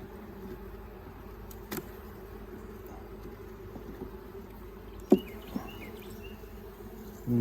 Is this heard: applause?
no